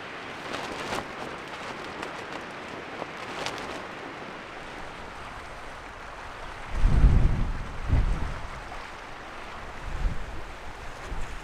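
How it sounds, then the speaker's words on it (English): Wind rushes steadily at a campsite among wildfire remains, with heavy low gusts thumping against the microphone now and then, like blustery weather by the water. "The weather report didn't tell us it was going to be this windy."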